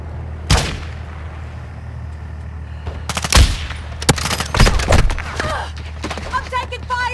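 Video game gunfire in Call of Duty Modern Warfare: sharp bursts of automatic fire and single shots crack close by in clusters over a steady battle rumble, with radio-style voices talking through parts of it.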